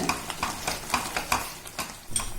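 Sugar is stirred into pineapple rava kesari in a pan, a spoon scraping through the thick mixture in quick, regular strokes about three times a second, close and clear over a faint background sizzle.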